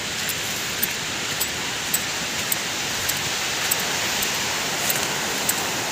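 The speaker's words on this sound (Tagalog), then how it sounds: "marinig nyo ang kalagalagas ng tubig" Water rushing down a mountain stream in a continuous broad hiss, close and steady, with faint periodic ticks above the flow and no talk.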